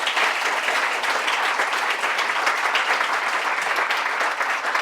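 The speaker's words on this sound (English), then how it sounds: "Let's give our debaters a round of applause" A debate audience at NYU Wagner gives the debaters a sustained round of applause, thick and loud clapping that holds steady from start to finish.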